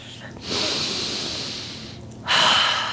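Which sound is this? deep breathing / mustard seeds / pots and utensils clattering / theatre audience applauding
deep breathing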